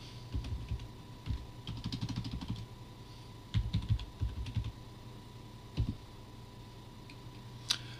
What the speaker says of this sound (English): I have to retype that.